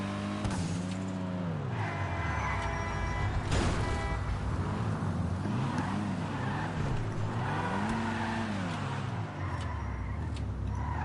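A fully tuned car in GTA Online drives hard, its engine droning and rising and falling through repeated revs and gear changes, loud and steady with a brief tire scrape.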